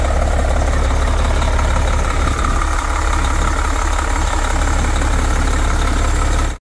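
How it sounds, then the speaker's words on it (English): A Detroit Diesel Series 60 engine idles in the rear of a 1998 Newell motorhome. The deep, loud, steady rumble carries a low drone with a slight knock and continues without a break, with no voices. "This has a Detroit diesel Series 60 in the back."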